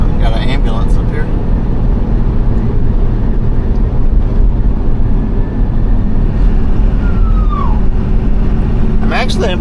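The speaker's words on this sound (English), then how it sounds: "I've got an ambulance up here." An ambulance siren wails over loud, constant road and engine noise, rising and falling in pitch, fairly distant, with a voice nearby.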